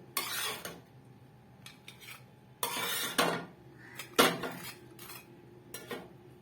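Egg sandwiches are lifted from the pan onto a plate, with a few scattered clinks and scrapes of utensils against cookware and soft gaps of quiet between them.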